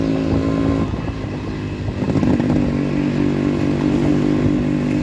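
A Yamaha RX100 motorcycle engine drones steadily during a short ride, a close, continuous two-stroke putter with slight shifts in pitch and some rattling, no talking.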